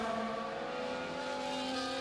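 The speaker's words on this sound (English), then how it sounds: "Listen to these horrible engine noises." Race car engines in the F1 24 video game at Imola, a steady high-pitched droning whine held at constant loudness, with no voices over it.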